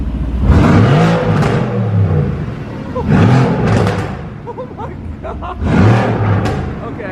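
Tuned Nissan GT-R with upgraded downpipes revving hard in three loud bursts, each rising then falling away, with a deep roar and whine close by and excited voices in between.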